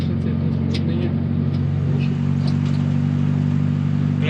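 A Datsun 120Y, fresh from the workshop and fitted with a new exhaust, drives along the road with a steady, close low engine drone and a constant tyre rumble beneath faint clatter.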